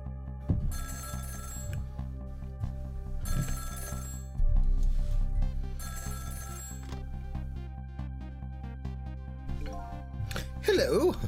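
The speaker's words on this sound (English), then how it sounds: "the phone rang" In the game Ghost Trick, a telephone rings three times in bright, evenly spaced trilling bursts over soft looping background music, with a final brief sound at the end.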